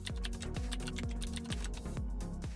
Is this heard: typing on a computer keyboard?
yes